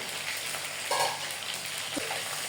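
Chicken pieces frying in hot oil for biryani, a steady soft sizzle and crackle with a brief stir and a clink of a utensil, fairly quiet and close.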